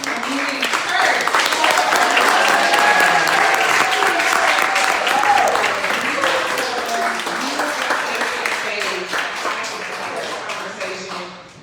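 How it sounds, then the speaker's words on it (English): An audience in a church hall gives a big, loud round of applause, dense sustained clapping that gradually thins and fades toward the end. "Can we give a big, loud round of applause for the Chinese Community Church?"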